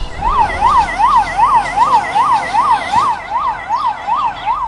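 An ambulance siren wailing loudly and steadily, its pitch rising and falling in a fast, regular cycle, close by.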